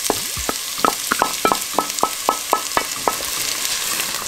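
Garlic and onions frying in hot clarified butter in a Dutch oven, with a steady hiss under a run of regular metallic taps and scrapes from a stirring utensil.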